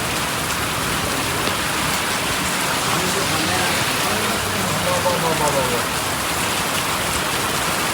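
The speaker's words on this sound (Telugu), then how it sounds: "మరి వర్షం మామూలుగా పడతలేదు" Heavy rain pours down steadily and loudly in a dense, unbroken hiss, with a possible faint voice in the background.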